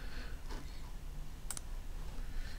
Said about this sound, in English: So I'm going to just click a foreground color here